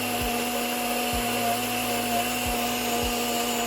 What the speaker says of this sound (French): Là, c'est en train de mixer.